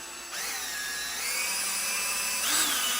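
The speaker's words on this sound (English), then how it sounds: "So let's just start and drill a little hole right here." Power drill whining at high speed as it bores a small hole through a sticker, the motor pitch rising in steps and running continuously and close for about three seconds with no talk.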